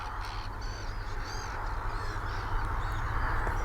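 Common terns call outdoors in summer, a series of harsh, rasping cries repeating over several seconds against a steady rumble of wind or background noise, moderately distant.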